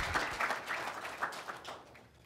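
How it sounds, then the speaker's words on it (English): Applause from an audience at a medical research day session, a fairly quiet, even patter of clapping that fades slightly toward the end. "I think we ought to give this medical student a round of applause for the wonderful work that he did."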